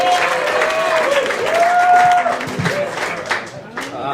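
A comedy club audience at Gotham Comedy Club claps steadily to welcome a comedian, a dense, even wash of applause with a few voices calling out over it.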